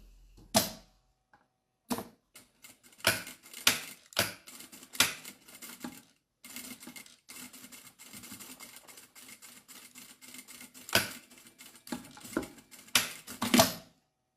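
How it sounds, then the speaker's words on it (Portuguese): A sewing machine stitches the base of a fabric toiletry bag, running in short rattling bursts and pauses and then in one longer steady run, close and fairly quiet with no talking. "Vou já costurar aqui a base"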